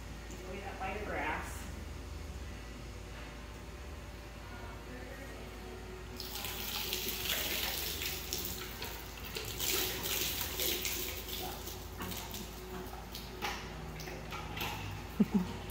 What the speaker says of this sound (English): This is how I'm gonna rinse your mouth, Mia.